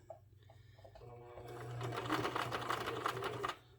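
Sewing machine stitching fabric for a baby burp cloth, a steady rapid needle chatter that starts softly and grows louder and denser midway before stopping near the end, close and alone.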